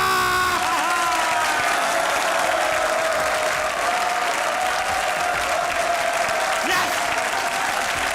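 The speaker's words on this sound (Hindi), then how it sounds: "तालियां!" A studio audience at a comedy show applauds and cheers loudly and continuously, with whoops rising over the dense clapping and a voice shouting briefly.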